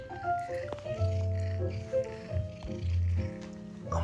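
A house cat vocalizes indoors in a series of drawn-out, wavering meows and trills over about four seconds, close and moderately loud, without speech.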